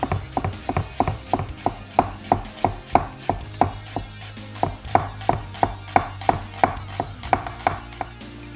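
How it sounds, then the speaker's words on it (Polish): Knife slicing a red onion into fine slivers on a board, a steady run of about two dozen sharp, even chops close up, alone without talk. "Czerwona cebula. I ją pokroję sobie w bardzo drobne piórka."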